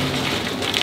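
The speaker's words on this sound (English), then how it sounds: "It's hailing." Steady, dense patter of hail striking surfaces nearby on a sailboat during a storm in Malta, a continuous loud clatter with no voices.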